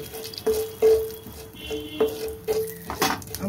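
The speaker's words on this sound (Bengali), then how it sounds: "সাদা জিরে, তেজপাতা, দারচিনি, দুটো এলাচ আমি ফোড়ন দিয়ে দিলাম" Whole cumin, bay leaf, cinnamon and two cardamom pods tempering in hot oil in a pan for a Bengali cauliflower dhoka dish, with soft sizzling and a few scraping stirs and clinks of a utensil, close by, no talk.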